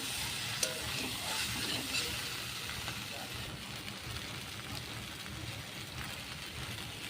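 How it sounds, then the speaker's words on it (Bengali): Boiled taro stolons are stir-fried in a pan, producing a soft, steady crackling sizzle with light stirring, fairly quiet and even throughout. "এবার আমার সিদ্ধ করে রাখা এই কচুর ছড়াগুলো আমি দিয়ে দিলাম, একটু কষিয়ে নেব ভালো করে।"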